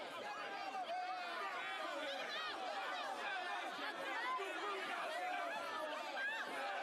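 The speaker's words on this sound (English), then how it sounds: "Oh, listen to the crowd." An angry crowd in Metaphor: ReFantazio chatters and murmurs in a dense, steady wash of many overlapping voices, with no single speaker standing out.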